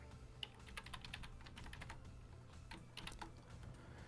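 Quiet typing on a computer keyboard while writing Python code, a fast run of light key clicks with a few slightly firmer presses and no talking.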